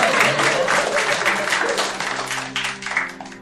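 Audience applause after a story told during an interview-style talk show, a dense burst of clapping with voices mixed in over it, steady and fairly loud through the whole stretch.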